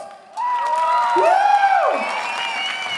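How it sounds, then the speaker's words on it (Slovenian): A packed outdoor crowd at a stand-up comedy show on Kongresni trg in Ljubljana cheers loudly, with rising and falling whoops and whistles over a continuous roar of applause. "dajmo še en aplavz"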